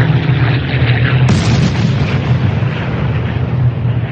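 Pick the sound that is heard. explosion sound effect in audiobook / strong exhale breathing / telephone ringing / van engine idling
explosion sound effect in audiobook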